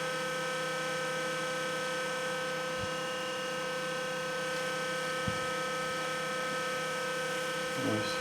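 A small 12 V, 0.3 A electric fan runs with a steady, even motor hum and whir close by, broken only by a couple of faint clicks.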